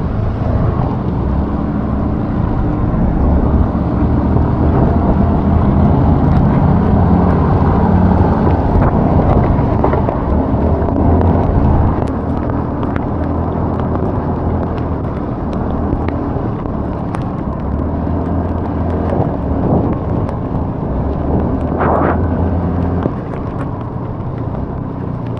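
Yamaha Fazzio scooters climbing uphill in Atok, Benguet, a loud continuous engine drone mixed with heavy wind buffeting on the microphone, steady throughout with no talk.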